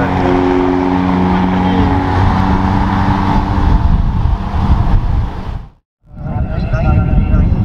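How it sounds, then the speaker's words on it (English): A Ferrari Testarossa is driven on a race track, a loud sustained engine roar close by that cuts out abruptly for a moment and then resumes, with a voice talking over it. "We got a Testarossa on track."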